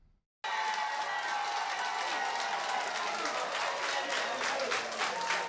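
Union activists applaud in acclamation at a congress in Cotonou, steady dense clapping from a crowd that starts abruptly after a short silence and holds loud and continuous to the end.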